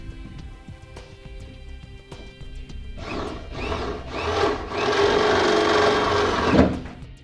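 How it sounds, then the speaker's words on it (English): A drill bores a 9/16-inch hole down through the bed of a 2005 Chevrolet Silverado pickup for a gooseneck hitch, with a few taps and then a loud, sustained grinding whine that rises near the end. "Now I go ahead and drill our 9/16 hole for U-bolts from the top down."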